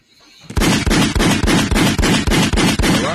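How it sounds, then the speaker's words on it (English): Movie gunshots from Fast X Part 1 ring out as a rapid, evenly spaced burst of about nine loud, booming shots, each with a short decay. "Gunshots."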